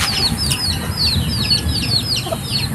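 Young gamefowl chicks (baby stags) chirp and cluck in a quick repeated series of high, thin peeps at close range, over a steady low rumble of background noise.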